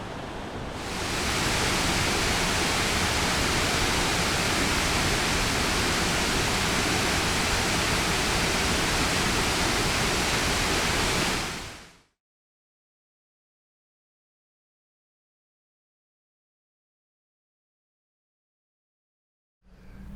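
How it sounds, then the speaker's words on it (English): A waterfall in Japan gives a steady, broadband rush of falling water, loud and unchanging for about twelve seconds before cutting off abruptly into silence, with a brief return at the very end. "just experience this beautiful waterfall here in Japan"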